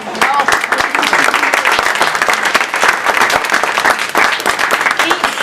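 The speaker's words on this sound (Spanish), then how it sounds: "Los aplaudimos de antemano" Audience applause at a year-end speech event, steady dense clapping from a crowd filling the room at close range for several seconds, with some voices mixed in.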